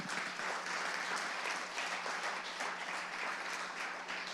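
A church congregation breaks into sustained applause during a Sunday morning sermon, many hands clapping together in a steady, dense roar that sounds fairly distant and soft, with no talk over it.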